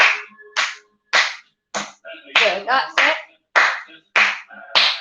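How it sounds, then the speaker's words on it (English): Hands clap together in time with music during a seated exercise class, roughly ten sharp, evenly spaced claps, close and crisp, with a voice briefly speaking between them. "clap your hands together"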